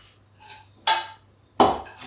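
A kadhai (wok) is lifted off the stove in a home kitchen, giving two sharp metallic clanks about two-thirds of a second apart, close and clear against a faint hum.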